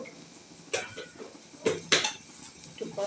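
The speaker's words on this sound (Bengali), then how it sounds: "লবণ দিয়ে নাড়াচাড়া করলো" A spoon stirs shoal fish curry with potatoes and salt in a metal pan, making a few sharp clinks and scrapes at uneven intervals over a quiet background.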